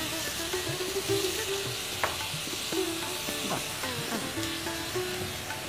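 Spices sizzle and crackle in hot oil for Borar Jhal, a steady close frying hiss with occasional spoon scrapes and clinks against the pan throughout.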